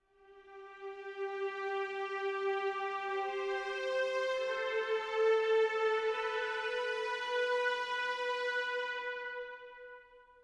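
A sampled cello section from a Spitfire Audio library, recorded by gallery microphones with the players down in a pit, holds a long, soft, sustained note that swells gently and then fades into a reverberant tail.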